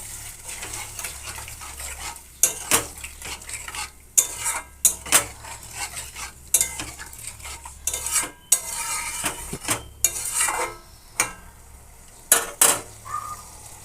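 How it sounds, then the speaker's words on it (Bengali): Potato and papaya stirred and sautéed in a pan: a ladle scrapes and knocks against the metal in irregular sharp clatters, with a soft sizzle underneath and no talking. "তো আমি আলুটার পেঁপেটা ভালো করে কষিয়ে নিয়েছি।"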